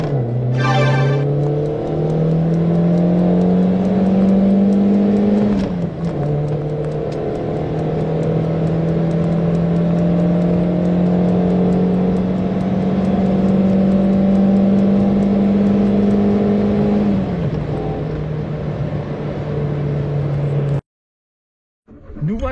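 A 1996 Peugeot 205 Mito 1.1i drives on the road, its small engine humming steadily and rising in pitch through the gears, with a clear shift dip partway through and a brief cut near the end.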